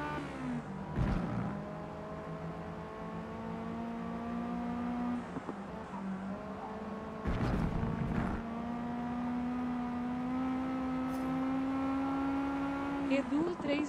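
Race car engines in the Forza Motorsport 2023 video game hold steady droning tones with shifting pitch, joined by two short bursts near 1 and 7.5 seconds.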